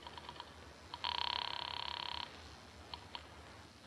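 Radio-drama telephone effect: a steady electronic ring-like buzz lasting about a second, framed by a few soft clicks of a receiver being handled and dialed, faint and without voices.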